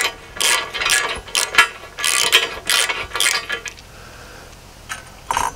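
A ratchet wrench turns a 19 mm (3/4 inch) socket in close, rapid bursts of clicking, then pauses, with a last short burst near the end.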